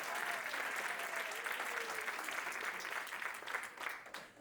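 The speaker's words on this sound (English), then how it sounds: "Please join me in a round of applause for the BAMC Facility Dogs" An audience at a military facility dog promotion ceremony claps steadily for the honored dogs, a dense round of applause that tapers slightly toward the end.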